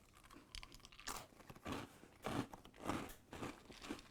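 Frosted chocolate puffed cereal with rainbow chips is crunched by mouthful, a series of close, rhythmic crunchy chewing bursts with no talk.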